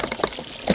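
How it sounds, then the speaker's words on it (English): Water and muck drain out of a trailered boat's hull through the open drain plug, making a short, steady splashing gush up close. "Now we're draining."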